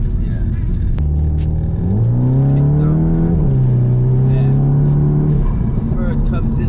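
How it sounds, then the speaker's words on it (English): Stage 3 Skoda Octavia vRS making about 477 bhp, its engine note climbing steadily as it accelerates hard under full throttle, then a gear change and another rising pull, loud and close inside the car with voices over it. "on the road, 30, 40mm an hour onwards, you floor it in"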